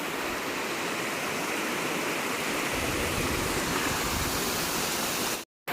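Hosadevata waterfall near Melinaguli, Ankola, a steady loud roar of falling water rushing without a break, close and continuous until a brief cut at the end.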